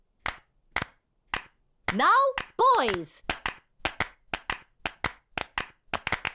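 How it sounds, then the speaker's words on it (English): In a cartoon, children clap their hands to make music, with sharp, evenly spaced claps in a steady rhythm. A voice briefly speaks and calls out in the middle. "Madam Gazelle has made the clapping into music."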